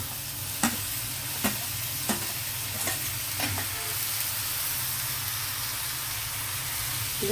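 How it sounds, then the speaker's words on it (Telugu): Onions added to an egg frying in a pan and stirred, a constant loud sizzle and hiss with several sharp spoon scrapes and knocks at irregular intervals, close up with no talking. "ఇప్పుడు నేను ఉల్లికాయలు వేసేస్తున్నాను"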